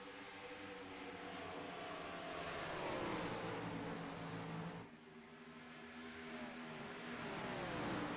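Stock cars racing at Dover Motor Speedway in an iRacing sim, a thick continuous engine drone from a pack of cars with rising and falling pitch sweeps, fairly quiet and steady with a short dip midway.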